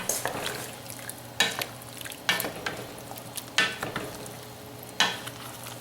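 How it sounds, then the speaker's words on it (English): A spoon stirs a pot of beef stew with very strong beef stock and potatoes, leaving a soft bubbling bed punctuated by several sharp, evenly spaced scrapes and knocks against the pot. "Want to give this a stir."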